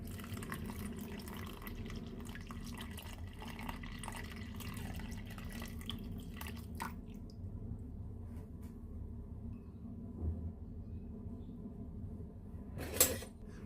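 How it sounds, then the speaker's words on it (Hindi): Water poured onto soaking masoor lentils, a steady low splashing and trickling that runs throughout at moderate loudness, thinning out partway through, with a small clink near the end. "अब दोबारा पानी डाल रही हूँ दाल को सोक करने के लिए"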